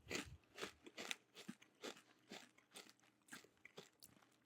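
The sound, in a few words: crunching a puffed snack into the microphone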